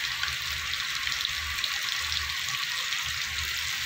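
Potatoes seasoned with salt and turmeric fry in a pan, giving a steady, dense sizzling hiss that stays even and close throughout, with no voices.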